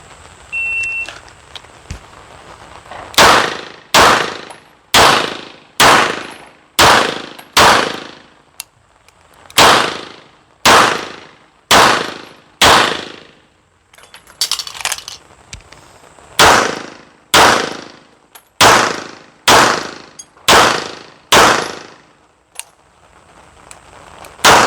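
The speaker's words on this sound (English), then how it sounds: "shoot the target, shoot 10 shots, reload with this mag into the pistol, and then shoot another 10 shots." Twenty pistol shots ring out at a target on a range in two strings of ten, loud, sharp and evenly paced, with a short pause for a magazine reload in between and no talking.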